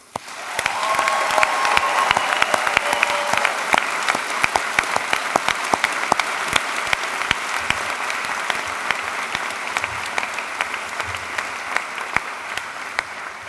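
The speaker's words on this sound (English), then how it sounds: "giving a demonstration of our appreciation through applause to everyone that has helped us get to this point today" Sustained applause fills a graduation ceremony hall, a large audience clapping steadily for over ten seconds with sharp individual claps standing out from the dense roar, loud and consistent throughout.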